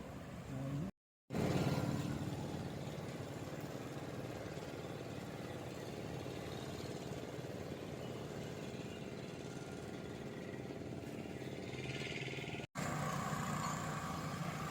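A speed boat engine drones on a backwater, a steady, fairly faint motor hum running continuously with one brief dropout.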